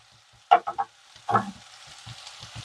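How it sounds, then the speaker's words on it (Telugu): Chopped tomatoes fry in a pan on high heat for a potato curry, giving a soft sizzle with a few brief stirring scrapes and light spattering pops, close and without talk. "స్టవ్ హైలో పెట్టాము కాబట్టి చక్కగా ఫ్రై అయ్యాయండి ఇలా అంటే ఇగో మెత్తగా అయిపోతున్నాయి టమాటాలు"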